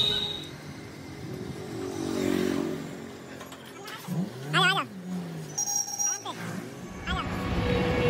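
Car engine revving close by in short bursts with a rising whine, mixed with street noise and a passing horn-like tone.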